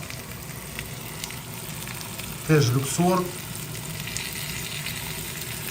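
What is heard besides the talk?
meat frying in a pan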